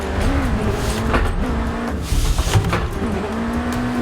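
A drift car in Assetto Corsa on a touge mountain road roars steadily at high revs, with its engine note wavering as it shifts. Bursts of tire squeal and scrubbing rise over it, and no one talks.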